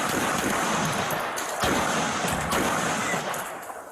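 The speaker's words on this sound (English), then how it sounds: "Those 5 shots were fired by APD officer Daniel Sanchez" Several gunshots from a police officer's pistol, captured on a body camera at night, ring out as loud sharp cracks over a noisy, distorted background.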